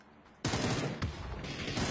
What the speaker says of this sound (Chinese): 他听到了小龙那边的枪声